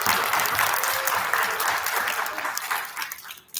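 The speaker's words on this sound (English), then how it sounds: "Big round of applause for Gavin." Families and students at Palmer Elementary's student recognition ceremony give a round of applause, a close, dense burst of clapping that holds steady and then tapers off at the end.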